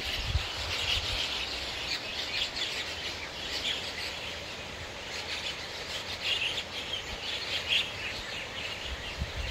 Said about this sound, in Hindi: इतनी मधुर आवाज़ें, इतनी सारी चिड़ियाँ हैं।